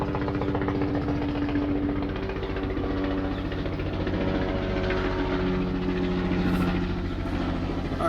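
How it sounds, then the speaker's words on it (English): Helicopter passing overhead during a live stream, a steady loud rotor drone with a pulsing low thrum filling the whole stretch, no talk over it. "Naturally, a helicopter is passing overhead when I'm speaking."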